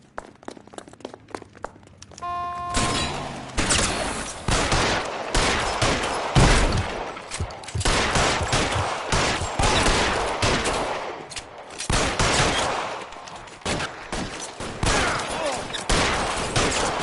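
Dense, sustained bursts of gunfire from a PS4 video game crackle almost without pause, loud and close, with rapid volleys overlapping after a short quiet tonal lead-in.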